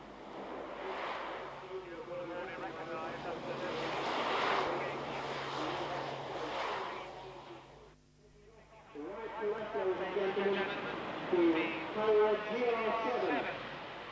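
A Lockheed C-130 Hercules rumbles overhead at an RAF air fair, with a broad, droning engine roar that swells and fades under continuous public-address commentary.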